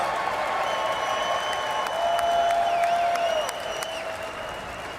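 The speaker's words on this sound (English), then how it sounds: "I'd like all of you to join me in cheering on Justin as his wish comes true." A crowd applauds and cheers at an NFL draft pick announcement in 2024, steady clapping swelling midway, with a brief tonal whistle or horn over the noise.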